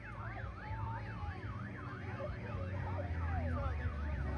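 An electronic alarm wails in a continuous rising-and-falling warble, moderately loud and steady throughout with a low rumble underneath and no talking.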